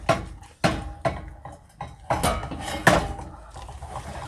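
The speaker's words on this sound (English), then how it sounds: "So we're just going to stir this in here until our butter is melted" Utensil stirring butter and brown sugar caramel in a metal pan, a run of sharp close clinks and scrapes in an uneven rhythm, fading toward the end.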